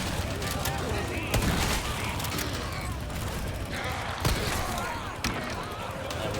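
Gunfire in Resident Evil 4 appears as a few separated sharp shots over a rumbling game background, moderately loud, while a voice talks underneath.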